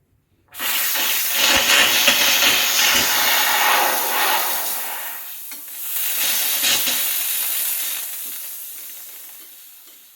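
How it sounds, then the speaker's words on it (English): Steam wand of a Rancilio Silvia V5 E espresso machine blasting open, a loud, steady broadband hiss that dips briefly midway and then surges again, running alone without talk. "I'll show you how powerful this steam is before I actually steam."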